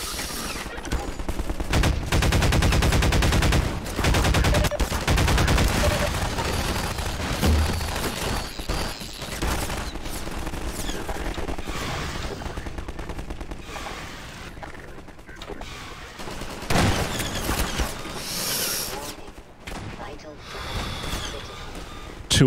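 Gunfire in the Half-Life 2 video game, loud dense bursts of shots early on that thin into scattered firing and mechanical clatter, with someone talking over the game sounds.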